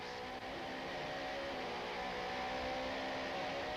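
Opel Vectra touring car at race pace in the 1995 South African Super Touring Championship at Aldo Scribante, a steady loud engine drone heard from an onboard camera, continuous without talk.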